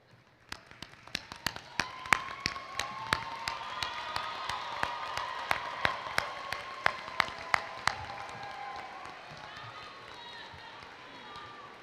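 Graduates at a 2025 CPHS graduation ceremony applauding their loved ones, heard as a hall full of clapping that swells to a dense, sustained roar with a few sharp nearby claps, then slowly fades out.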